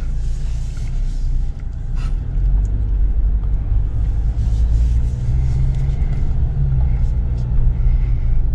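A new Jeep Wrangler with a turbocharged inline-four pulls away, heard from inside the cabin as a quiet, steady low engine rumble and road drone with no sharp revving.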